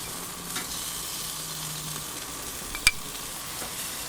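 Mango and prawn skewers brushed with moonshine mango sauce sizzle on a barbecue, a faint, even hiss of grilling throughout with a single sharp tick partway through.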